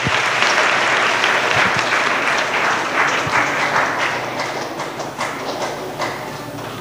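A church congregation claps together in loud, dense applause that stays steady and close, then slowly thins toward the end, with a few sharper claps standing out.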